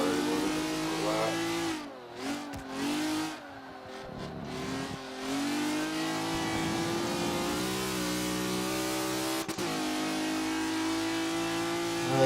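A tuned car's engine in a racing video game drones steadily, with brief throttle lifts and a dip in pitch early on before it climbs back to a sustained, moderately loud pull; no talking.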